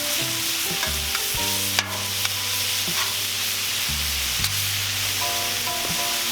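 Fully cooked pork carnitas heat and crisp on a Cuisinart 360° griddle, giving a steady, close sizzle and fry hiss with low rumbling underneath and a few faint clicks and scrapes, with no voices.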